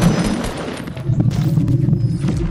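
Gunfire in the video game Fortnite, a sustained rattle of shots packed densely through the whole stretch, loud and close, with no clear gaps between bursts.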